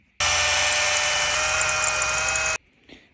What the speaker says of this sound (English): I'm now going to cut this to length and drill some holes in it.